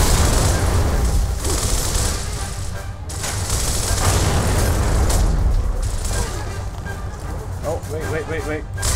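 Grenade blasts and heavy gunfire in the Gears of War video game roar loudly and continuously, with booming detonations and rattling shots piled together while a voice talks over the battle.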